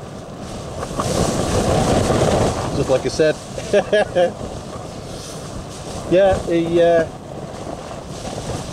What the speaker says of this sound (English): Another good blast of wind coming.